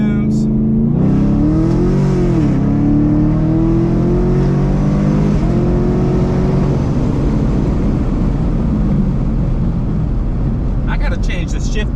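A supercharged Chevrolet Camaro SS engine climbs through a wide-open-throttle pull, a loud, rising roar that sweeps up in pitch, dips at a shift, then holds a heavy drone before backing off near the end.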